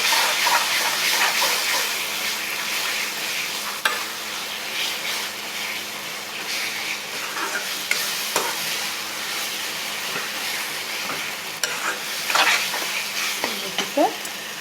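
Fish frying in a pan with sauce, stirred with a utensil, gives a steady close sizzle with occasional scraping and clinks over the whole stretch; no speech.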